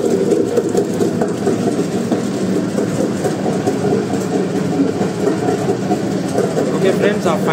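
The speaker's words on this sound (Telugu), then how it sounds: "ఫైనల్గా అయితే మోటార్ అయితే పర్ఫెక్ట్గా రన్ అవుతుంది" A rewound homemade wet grinder motor runs with a steady mechanical hum and rattle, loud and close, continuing without change throughout.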